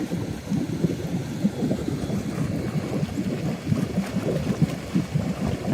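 Swimming pool return jets blow out during winterizing, giving a steady, close rushing and gurgling water noise with a low rumbling churn that carries on unbroken, no voices.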